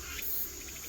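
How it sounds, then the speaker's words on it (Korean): Korean native honeybees swarm around a square wooden hive on a rocky hillside, a faint continuous insect hum and buzz that stays steady and distant throughout. "이렇게 벌들이 많이 나와 있고, 싸납습니다. 가까이 가면 막 벌이 댐벼요."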